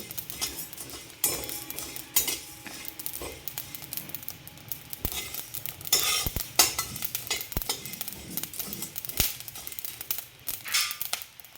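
Mixed grains for thalipeeth bhajani are dry-roasted in a pan and stirred with a spoon, making irregular scraping, rattling strokes and occasional sharp clinks against the metal, close and fairly loud, with no talking.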